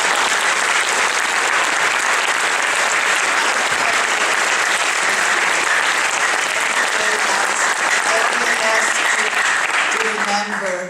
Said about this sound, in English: Please, one more round of applause for them.